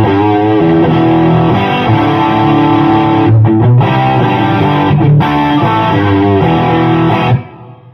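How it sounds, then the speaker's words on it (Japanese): An electric guitar played through a Magnatone amp at high gain with only reverb added: a loud, distorted, sustained chordal passage ringing into a wash of reverb before cutting off near the end. "8番が、今度はマグナトーンのハイゲインにリバーブだけつけてるやつです"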